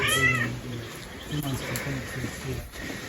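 Domestic cat in a rustic Jamaican mountain home meowing close by, one drawn-out cry followed by a string of shorter, rising mews, with no one talking over it.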